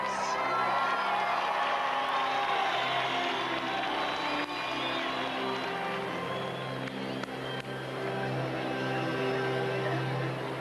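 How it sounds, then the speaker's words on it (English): A magic show audience cheers, whoops and applauds in a large crowded hall, a loud continuous roar of clapping and shouting with children's voices mixed in, holding steady the whole time. "A big round of applause."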